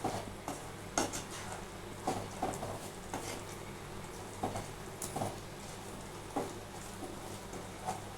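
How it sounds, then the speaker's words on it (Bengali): A spoon scraping and clinking against a pan as modak filling is stirred over a gas flame, with soft repeated taps in an irregular rhythm, faint and close, over a low steady hum. "এবার এটাকে আমি পাক দিচ্ছি ভালো করে।"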